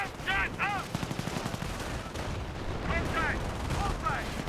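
Company of Heroes battle with rapid machine-gun bursts and heavier booms of combat, the rattling fire continuing steadily beneath a voice that speaks at times.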